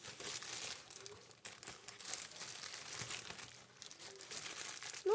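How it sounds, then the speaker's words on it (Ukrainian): Soft, close crinkling and rustling of plastic with scattered tearing sounds, quiet and irregular throughout. "Ой, я цей пакет аж розриваю."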